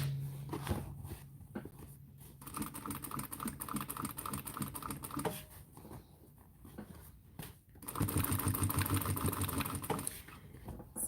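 Sewing machine top-stitching a tote bag, its needle hammering in a fast, steady run that pauses briefly and then resumes, close and fairly quiet with no voices.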